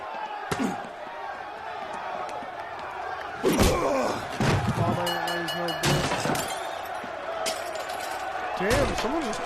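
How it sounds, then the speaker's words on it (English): A chair is hurled during a brawl at a boxing match in the L.A. Noire video game: several loud crashes, slams and thuds land one after another over a constant crowd roar, mixed with shouting voices. "someone just threw a chair"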